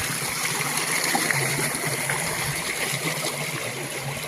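Water gushes steadily from a 2 HP submersible motor pump onto a farm field in Pudukkottai, a continuous loud rushing and splashing flow with no pauses.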